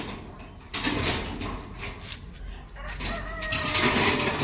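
Ducks in cages being moved to a new area on a farm, with fowl calls over rattling and scraping of the cage frames, close and continuous, with no talking.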